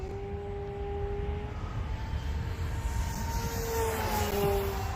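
An RC Sbach model airplane engine runs at about three-quarter throttle, giving a steady, loud buzzing drone with slight pitch wavering that continues for the whole stretch with no talking.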